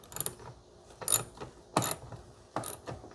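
A screw on a car brake light assembly is turned left to loosen it, giving four short, close ratcheting clicks spaced roughly half a second to a second apart.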